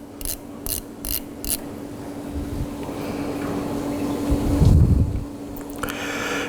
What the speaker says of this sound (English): Turn on a ratchet.